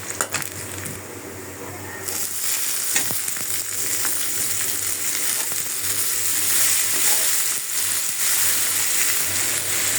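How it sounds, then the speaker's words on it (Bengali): Sliced bitter gourd frying in a pan, a loud steady sizzle of hot oil with scraping stirring sounds throughout, the sizzle swelling after the first couple of seconds. "আর এইদিকে করলা ভাজি বসাই দিতেছি।"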